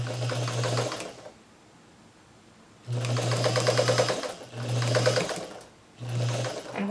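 A sewing machine stitches across fabric pieces of a log cabin quilt block in three or four steady mechanical bursts, each a second or so long, separated by short quiet pauses, close and clear with no talk.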